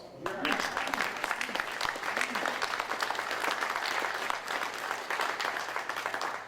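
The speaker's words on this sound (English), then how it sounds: "That deserves applause." Sustained audience applause at a congressional veterans braintrust event, a dense, steady clapping texture filling the room throughout at moderate level without pause.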